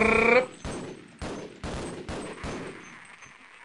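Gunfire in the Half-Life video game: five evenly spaced sharp shots ring out in a steady rhythm, fairly loud and close, with a brief tonal sound just before them.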